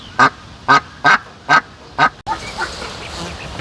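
A farmyard duck quacks five times in a steady, evenly spaced rhythm, loud and close, then the calls give way to softer, thinner peeping and rustling that fits small ducklings settling beside her.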